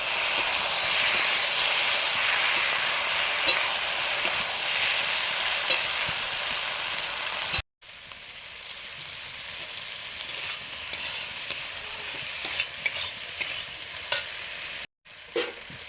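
Green chillies fry in a pan with mustard paste, a steady loud sizzle running throughout with stirring scrapes, broken by two brief cuts to silence.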